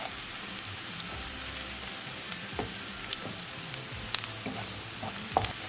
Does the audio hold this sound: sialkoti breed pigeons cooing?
no